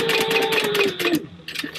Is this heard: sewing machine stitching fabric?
yes